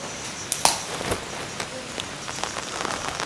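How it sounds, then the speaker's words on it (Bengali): Heavy rain pours down outdoors in a steady, dense hiss of drops striking surfaces, with a few sharper taps and splats standing out near the listener. "তো দেখেন বাইরে খুব বৃষ্টি হচ্ছে।"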